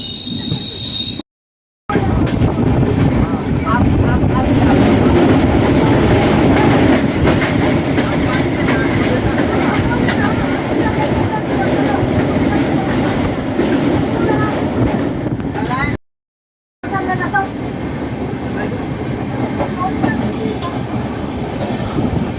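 Indian express train, the Ganga Sagar Express from Jainagar to Sealdah, runs loud and steady on the Darbhanga line, a continuous rumble of wheels and carriages with rattling clatter throughout, briefly cut by two short gaps.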